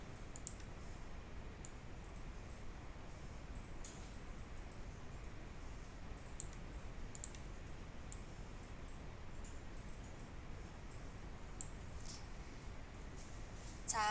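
A computer mouse clicks during Photoshop work: sparse, faint, light clicks scattered over a steady low hiss, with no talking.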